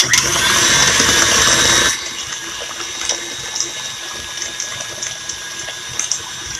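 An electric mixer whirs in a bowl, whipping about two cups of Cool Whip into a strawberry cheesecake pie filling with cream cheese. It runs loud and steady for two seconds, then drops to a softer, thinner whine.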